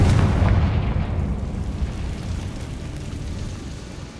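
A heavy magical blast from the Confringo spell in Hogwarts Legacy, one loud booming burst at the start that rumbles and decays slowly into a long fading roar.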